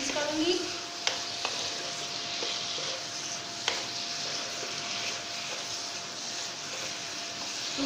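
Cluster bean and potato curry sizzles and fries in a pan while a spoon stirs it, with a few sharp clinks of the utensil against the pan over a steady frying hiss.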